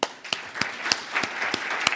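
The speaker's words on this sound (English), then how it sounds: "Let's give them a big hand." Audience applause at a Hong Kong construction industry award launch ceremony, a sparse run of individual claps at a steady pace, moderately loud and close, with no talking.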